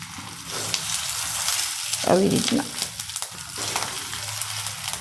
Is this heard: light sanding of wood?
no